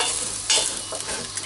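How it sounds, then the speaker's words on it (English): Beef browning in a hot pan over high heat, stirred continuously: a steady bright sizzle with scraping spoon strokes, including a sharper burst partway through, close up and with no talking. "stir this on a high heat until it changes colour"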